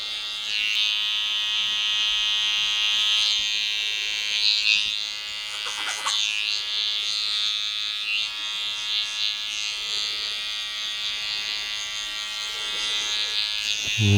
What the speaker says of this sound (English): Trimmers just to shave the neck, get a bit of that loose hair through here